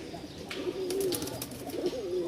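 Two Rajshahi Giribaz pigeons, a newly paired male and female, give soft, close coos, with two drawn-out calls over light background noise and faint rustling.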